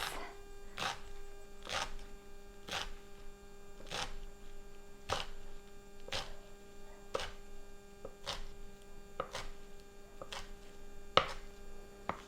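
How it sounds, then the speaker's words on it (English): A knife slices garden-harvested eggplant on a board, a regular series of about a dozen crisp, evenly spaced cuts, fairly quiet over a steady low electrical hum. "And then I make little slices."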